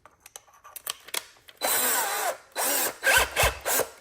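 A handheld drill drives a screw through a countersink bit in a few short bursts of whirring, with light tapping and handling clicks before them, close and moderately loud.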